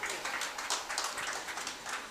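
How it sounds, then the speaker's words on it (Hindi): An audience at a poetry recital claps together in a steady, fairly quiet wash of applause that lasts throughout. "एक बार मेरे सम्मान में तालियां बजा सकते हैं"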